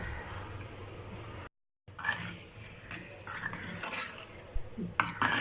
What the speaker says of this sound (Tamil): நல்லா இது போல் நல்லா கிளறணும்